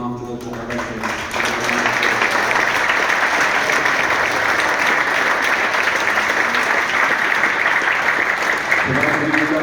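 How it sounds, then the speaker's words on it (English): A large graduation audience at a football development programme ceremony breaks into loud, sustained clapping that fills the room for several seconds, with a voice briefly heard before it starts. "The first round of applause goes to the BSc Young Learners who have been looking after the directors."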